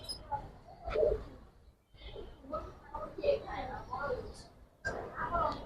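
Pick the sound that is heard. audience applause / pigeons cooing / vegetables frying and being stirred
pigeons cooing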